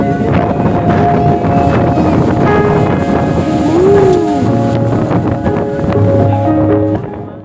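Sea waves and strong wind at Digha beach, a loud continuous roar with heavy wind buffeting, plus faint tonal hums from distant engines or boats.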